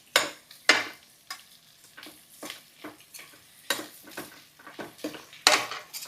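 Ingredients for a coconut milk pulao sizzle in a pan while a spoon stirs and scrapes in repeated strokes, with sharp metallic clinks against the pot throughout.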